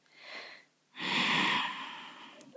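Ujjayi yoga breathing during a morning stretching routine: a soft breath, a short pause, then a longer, louder hissing breath with a constricted-throat rasp, close and alone with no talk.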